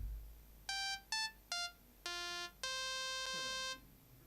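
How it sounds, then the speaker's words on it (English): Pure synthesized sine tones from a phone synthesizer app, five clean beeps of rising then falling pitch: three short bursts, a slightly longer one, then a sustained tone lasting over a second, loud and close with no voices. "So that's a sine wave"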